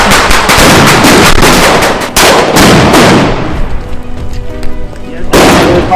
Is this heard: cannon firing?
yes